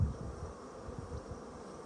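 Bees hum in a soft, steady drone around an open hive, close by, with a low rumble of handling underneath.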